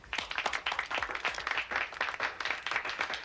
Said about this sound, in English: let's give a big round of applause to Bruce and his pepperoni.